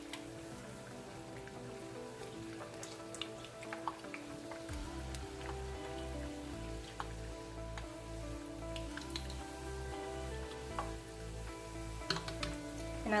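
Chinese cruller dough frying in a wok of hot oil gives a steady, fine crackling sizzle, dense and continuous, with scattered small pops and a low hum underneath.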